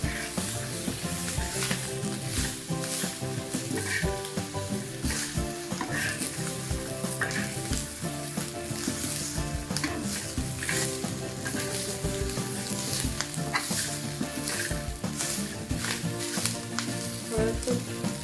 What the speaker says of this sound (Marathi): टाकून लसूण पण हलका परतून घ्यायचा